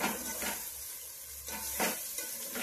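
Vegetables and spices for vegetable pulao fry in a pan with salt, a soft continuous sizzle broken by a few brushy stirring strokes, close and fairly quiet.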